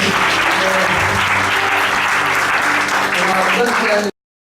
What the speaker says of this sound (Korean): 여러분 크게 박수 한번 해주세요